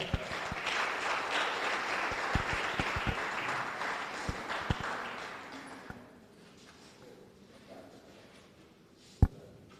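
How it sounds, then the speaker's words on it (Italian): An audience at a bocce raffa championship applauds for several seconds, the clapping fading away into near silence, followed by a single sharp knock. "Ancora un applauso."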